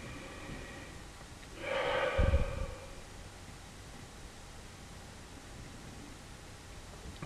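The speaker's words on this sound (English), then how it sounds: "So go ahead and start out with a nice deep breath." A single deep breath is heard up close, a drawn-in inhale followed by a brief, heavier exhale, against a faint steady background hiss.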